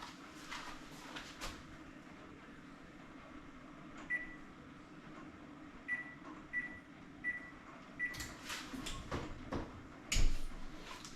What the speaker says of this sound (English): I've just started my oven and it's warming up